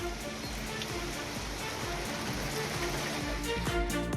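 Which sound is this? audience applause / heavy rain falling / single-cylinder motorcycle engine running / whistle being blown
heavy rain falling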